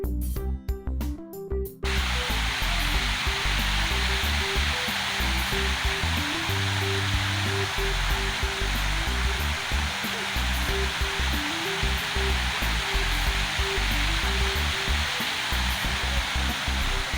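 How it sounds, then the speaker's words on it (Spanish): A public water fountain in Chapultepec park, Mexico City, splashes in a loud, steady rushing wash that runs continuously and close by, with no talk over it. "Llegamos a otra fuente, la verdad desconozco cómo se llama, pero también es relajante."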